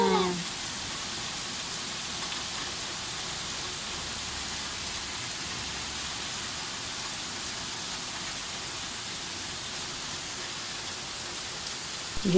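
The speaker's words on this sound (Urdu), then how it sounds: "ہلکی ہوئی تھی لیکن پھر دوبارہ تیز ہو گئی بارش" Heavy rain pours outside in a dense, unbroken hiss, steady and loud for the whole stretch with no voices.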